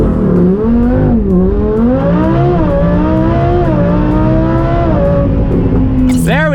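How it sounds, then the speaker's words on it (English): A Lamborghini Huracan Performante with 875 horsepower makes a full-throttle launch, its engine screaming upward through several rising gear pulls, loud and close, ending in a sharp shift and a rising wail. "All right, all the way on the brake, floor the gas."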